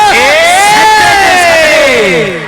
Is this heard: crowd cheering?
yes